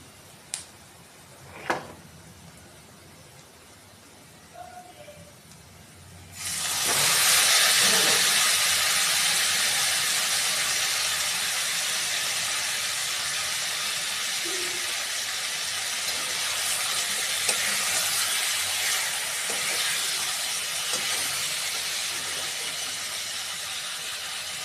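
Previously fried chicken tipped into a pan of golden fried onions for lemon pepper chicken: after a quiet stretch with a few small knocks, a sudden loud hissing sizzle bursts up and holds steadily.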